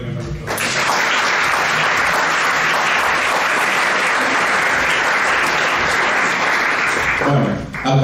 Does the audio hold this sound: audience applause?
yes